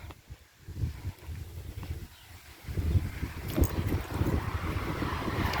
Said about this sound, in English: Ferns are getting the wind blowing on them.